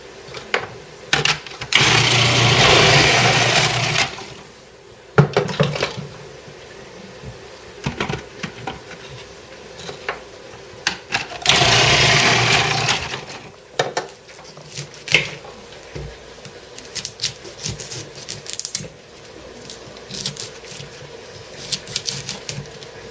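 A Cuisinart food processor chopping onions and garlic runs in two loud, whirring bursts of a few seconds each, separated by quieter clatter and clicks of kitchen handling, with no talking.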